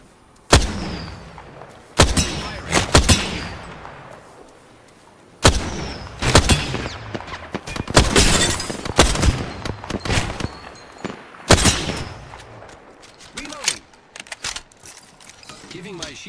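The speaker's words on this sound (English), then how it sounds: "Shooting at me." Loud bursts of gunfire from the Apex Legends video game ring out in clusters, some sharp single shots and some rapid volleys, with quieter mechanical clatter between them.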